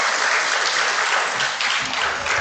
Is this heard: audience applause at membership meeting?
yes